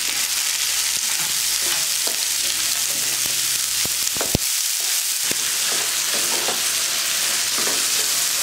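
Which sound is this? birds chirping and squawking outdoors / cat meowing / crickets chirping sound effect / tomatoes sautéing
tomatoes sautéing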